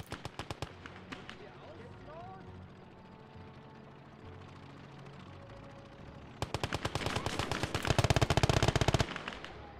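Bursts of machine gun fire in a WWII strategy video game with the Valor mod, rapid crackling volleys that build from sparse shots into dense, louder fire near the end, with game effects in the background.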